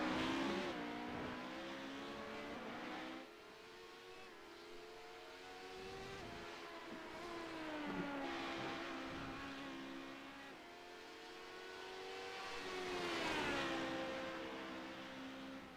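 A race car in a Legacy Sports Cars event drives around a track, its engine droning steadily with rising and falling revs through shifts and corners, heard alone without talk.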